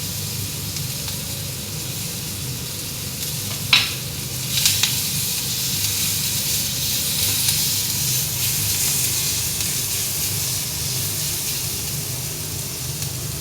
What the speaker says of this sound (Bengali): বাটারের সাথে আমি পেঁয়াজটা দিয়ে দেবো। পেঁয়াজ, একটু আদা